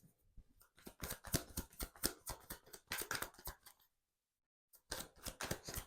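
An oracle card deck handled up close: bursts of quick, crisp snapping and flicking from the cards, a short silent pause, then the same rapid papery clicks again.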